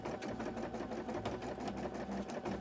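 Sewing machine stitching embroidery onto fabric, a fast continuous mechanical whir and rattle, close and steady, with no talking.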